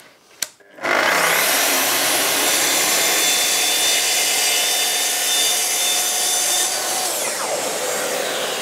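A powered saw cutting a wooden piece for a tray, with a short knock before a steady, loud, high whine that runs several seconds and then winds down at the end.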